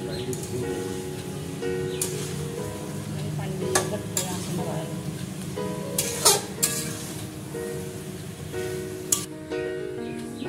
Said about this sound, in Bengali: এরপর ভালোভাবে নাড়াচাড়া করতে হবে।